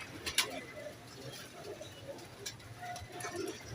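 Pigeons coo softly and repeatedly at close range, with a few brief flutters and faint background noise.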